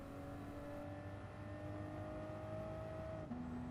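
A 2020 Toyota Supra accelerates in the racing game Gran Turismo Sport during a GR Supra GT Cup race, its steady engine drone rising in pitch with a brief shift near the end, moderately loud and continuous.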